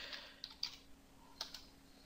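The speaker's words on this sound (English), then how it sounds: "I'm going to type in msconfig." Keys tapped on a computer keyboard while typing a short command into a PC, a handful of light, sparse clicks in two quick clusters over quiet room hum.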